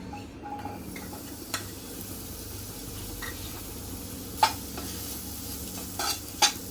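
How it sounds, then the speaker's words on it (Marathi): Soft scraping and stirring of khoa in a kadhai with a faint sizzle, a few sharper clinks of a utensil against metal, steady and close. "अगदी एक मिनिटासाठी खवा सुद्धा आपण असं परतून घ्यायचा आहे"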